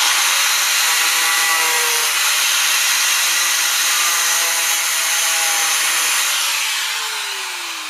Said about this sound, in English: Yeah, I did just angle grinder through a hose.